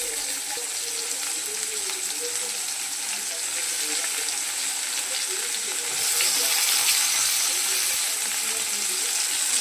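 Potatoes and chopped onion go into a frying pan, giving a continuous close hiss and sizzle that swells slightly partway through.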